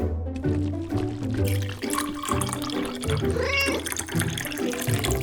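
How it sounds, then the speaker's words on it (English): A cat meows repeatedly and close up, with several drawn-out cries over running tap water splashing into a sink. "You're such a good kitty."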